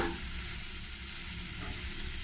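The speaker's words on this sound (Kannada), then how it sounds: "ಎಣ್ಣೆಯಲ್ಲಿ ಈ ಮೆಂತ್ಯ ಸೊಪ್ಪನ್ನ ಸ್ವಲ್ಪ ಚೆನ್ನಾಗಿ ಫ್ರೈ ಮಾಡ್ಕೊಳ್ತೀನಿ" Fenugreek leaves frying in oil for masala paratha, a dense, continuous close sizzle with a faint stirring texture, steady throughout the short stretch.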